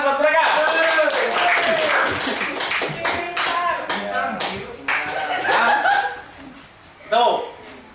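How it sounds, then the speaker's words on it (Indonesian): A classroom of students applauds a group, brisk clapping mixed with chuckles and chatter, fairly loud and close throughout with a burst near the end. "Tepuk tangan buat mereka."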